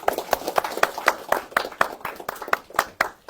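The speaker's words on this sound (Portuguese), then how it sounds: "Uma salva de palmas." A steady round of clapping, apparently from a single person or a small group, with evenly spaced sharp claps at a quick pace and a fairly faint level.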